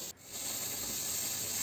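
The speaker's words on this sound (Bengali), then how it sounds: "পাশের উনুনটাতে পেঁয়াজ ভাজা হচ্ছে।" Onions with dried red chilli and five-spice frying in mustard oil on a stove, a steady close sizzling hiss with no talk.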